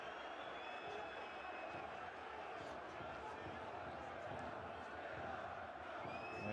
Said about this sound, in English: And you can hear the crowd right now going nuts.